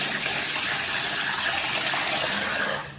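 Water gushes steadily from a kitchen tap, a loud continuous hissing rush close by that tapers off as it is shut at the end.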